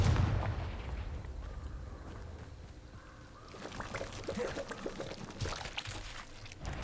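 A Confringo blast spell is cast in Hogwarts Legacy during a fight with spiders in a den. A burst opens loudly and fades, then a quieter stretch gives way to crackling, popping impacts.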